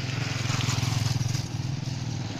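Engine of a Honda Beat scooter with a suspected CVT fault being revved, a steady loud pulsing drone close by that wavers slightly toward the end.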